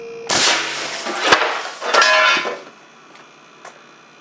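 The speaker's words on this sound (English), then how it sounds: "psi with the 4-foot fluorescent tube in the 6-inch barrel. Just about at 300 psi, and" An air cannon with a 6-inch barrel fires a 4-foot fluorescent tube at about 300 psi: a sharp loud blast, then crashing glass clatter and a second burst, fading into scattered faint tinkles.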